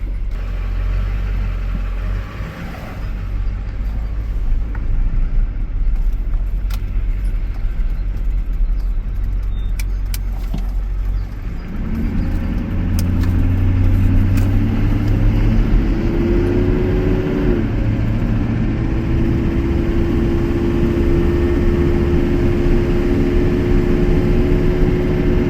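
LB7 Duramax diesel truck engine running and driving, a loud steady diesel rumble that rises in pitch as it pulls and shifts gears, continuous and close with no voices.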